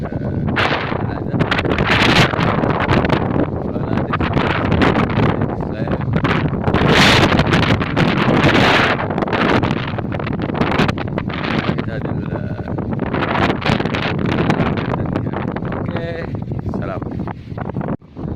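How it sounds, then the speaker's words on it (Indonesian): Strong wind buffeting a microphone outdoors on a fishing trip, loud rumbling gusts and rustling that rise and fall continuously, with a voice speaking intermittently beneath the noise. "Ini anginnya kencang ya, anginnya kencang banget"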